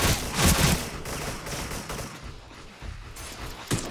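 Rapid automatic shotgun fire from an AA-12 Platinum blasts at zombies on a market-themed zombie map in the shooter game Special Force, with dense overlapping shots, loud and close, and a final sharp burst near the end.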